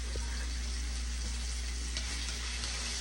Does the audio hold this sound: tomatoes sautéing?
yes